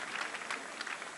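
Audience applause at the Concours général 2015 prize-giving ceremony, a steady wash of many hands clapping at moderate level throughout, with no voices over it.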